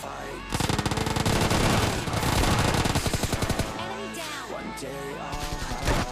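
Rapid automatic gunfire in a PUBG Lite firefight, long loud bursts of machine-gun fire with sharp rattling shots, brief pauses, then scattered louder single shots and trailing bursts, close and dominant.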